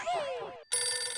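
A telephone rings in two bursts of a bright electronic tone, close and clear, with a brief gap between them.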